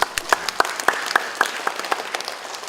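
A moderate scattering of claps at a Bandung city health office working meeting: sparse, uneven hand claps recorded from the room, fairly thin rather than a full ovation.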